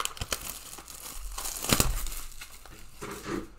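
Plastic shrink-wrap on a 2020 Panini Donruss football card hobby box is cut and peeled open, producing close, quiet crinkling and a brief tearing rustle with no talk.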